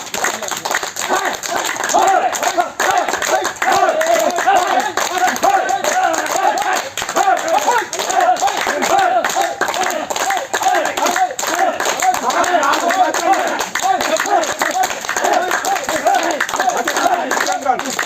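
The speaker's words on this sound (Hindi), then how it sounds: "तो जोर से एक बार सभी लोग बजाएंगे ताली कस करके बढ़िया सा, जैसे रोज बजाते हैं वैसा" A group claps hands together hard and fast at a yoga session marking Guru Purnima, a dense, steady patter of close slaps running unbroken for the whole stretch.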